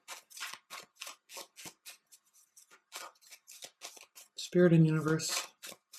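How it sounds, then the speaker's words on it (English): Tarot cards shuffled in quick repeated riffles and taps, close and crisp, with someone speaking over them and briefly humming or voicing a tone. "Let's pull some outcome cards."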